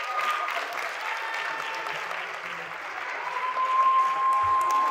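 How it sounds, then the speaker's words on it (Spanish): Applause from the audience at a leadership awards ceremony, a steady wash of clapping at moderate distance with a faint tone and a brief voice near the end. "Quiero que le den un fuerte aplauso"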